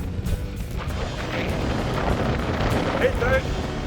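Strong wind buffets the microphone near the snowy summit of Glas Maol in the Scottish hills, a constant rough rumble with gusts rising and falling and no clear talk.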